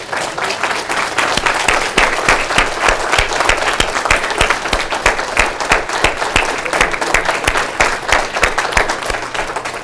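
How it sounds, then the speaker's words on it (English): A town hall audience applauds veterans standing in the room, producing loud, dense clapping that holds steady for the whole stretch with no break. "give them a round of applause, say thank you for their service."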